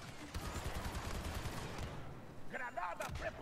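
Gunfire in a shooting video game, a rapid burst of rattling automatic shots for about two seconds, loud and close, followed by a brief voice.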